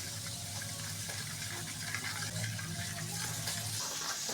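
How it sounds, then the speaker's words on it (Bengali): A small amount of water is poured into a bowl of ground spices (chilli powder and coriander-cumin) for a katla fish curry, a faint, steady trickle close by with no talking. "এবার মশলার মধ্যে সামান্য জল দিয়ে দেব"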